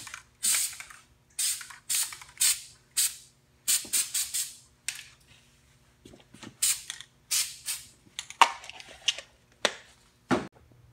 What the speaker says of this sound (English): Instead of spraying it directly on it, I'm just going to kind of spray it up.